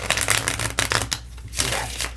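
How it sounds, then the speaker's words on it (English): Tarot cards are shuffled up close in quick riffling bursts, a pause, then another short flurry of papery flicks and snaps, with no talking. "That was a funny shuffle."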